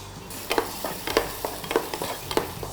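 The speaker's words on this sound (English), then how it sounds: "So first we add some olive oil, about 2 spoons. You add the chopped garlic and the onion." Chopped garlic and onion sizzle in about two spoons of olive oil while a spatula taps and scrapes the pan in a quick, regular rhythm, close and clear with nobody speaking.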